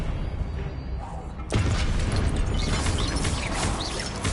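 A spell cast in a Harry Potter video game bursts in abruptly as a loud, dense whooshing crash that sustains with crackling, sparkly texture over low rumble.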